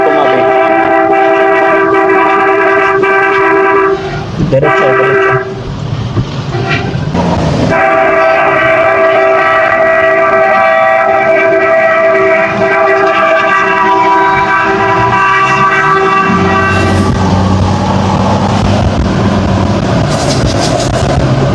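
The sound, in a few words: vehicle horn honking to clear the way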